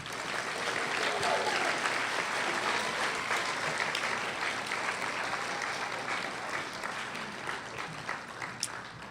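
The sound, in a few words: round of applause at senior awards ceremony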